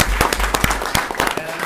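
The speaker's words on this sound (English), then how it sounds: "Mr. Henry, Mr. Rich, give our kiddos one more round of applause" A small audience at a school committee meeting gives a brief scattering of distinct hand claps, sparse and uneven rather than a full roar.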